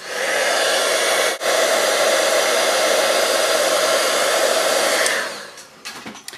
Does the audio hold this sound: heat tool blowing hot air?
yes